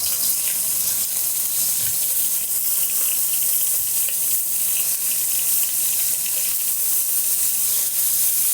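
Boneless short rib pieces searing in rendered beef fat in a hot pan, a steady dense sizzle that holds loud and even throughout with no talking.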